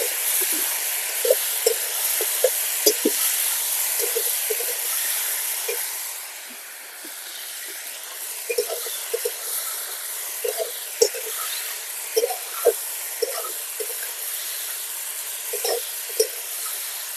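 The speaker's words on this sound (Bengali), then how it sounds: "এবার আমি মাংসটা দিয়ে দিচ্ছি।" Mutton frying with onions and spices in a pan, a steady hiss and sizzle with intermittent scraping stir sounds, close and moderately loud, no talking.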